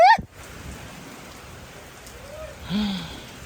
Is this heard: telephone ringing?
no